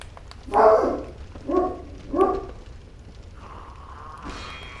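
A dog barks three times in quick succession, fairly close and loud, followed by a softer whine or shuffling sound near the end.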